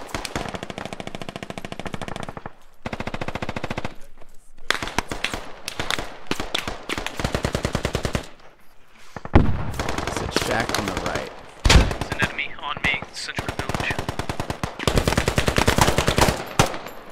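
Rapid bursts of automatic rifle fire and single shots from the military shooter Squad, loud and close, with brief quiet gaps between volleys and a few louder nearby cracks.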